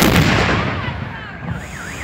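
A cannon fires: a single heavy boom with a sharp onset, then a rumbling tail and a wavering whine fading out, loud and close.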